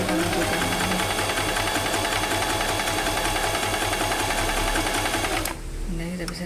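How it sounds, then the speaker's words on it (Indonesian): A Singer 8280 sewing machine sews a reverse stitch, a fast rhythmic mechanical chatter running steadily for about five seconds before stopping abruptly, leaving a quieter hum. "Lakukan jahit mundur, kemudian kita lanjutkan lagi."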